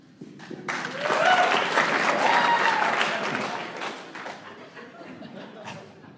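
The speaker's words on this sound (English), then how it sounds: "By a round of applause in here, just the men" Applause from men in a comedy show audience swells quickly to a full burst, holds for a few seconds with some laughter mixed in, then tapers off into scattered claps.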